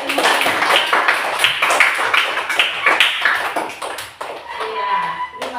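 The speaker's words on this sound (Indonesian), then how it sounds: "tepuk tangan untuk semua" A group claps together after a demonstration, brisk crowded clapping for about four seconds that then thins out, with a faint tonal ping near the end.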